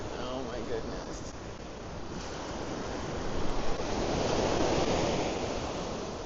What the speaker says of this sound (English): Don't get caught by surprise by the wave, though.